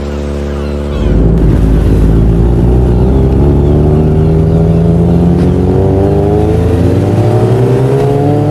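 A motorcycle engine hums loudly and steadily after a sudden rise, its pitch climbing slowly as the rider heads off to find parking, close and continuous throughout.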